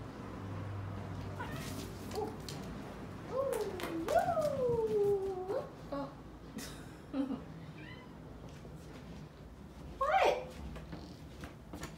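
A kitten meows several times, drawn-out rising and falling cries close by, mixed with a person's soft exclamations and brief talk.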